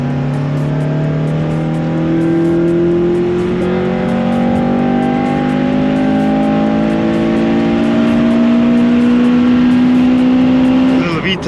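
A Honda Civic Type R FN2 with a K20 engine revs hard on an early-morning road, its loud engine note climbing steadily in pitch for about eleven seconds, with voices faintly under the sustained roar.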